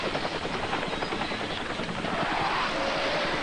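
A helicopter roars close by with a loud, dense, continuous rotor and engine noise that holds steady throughout.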